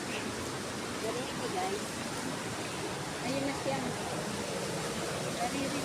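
A steady, broadband rush of a waterfall, Aling Falls, roars continuously at a moderate distance, with a voice speaking briefly over it.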